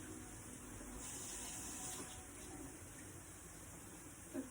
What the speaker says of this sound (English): Just quickly wash the curry leaf.